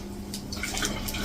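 Water pours into a bottle in a short, steady stream, close and fairly loud with a hissing, splashy quality and no talking.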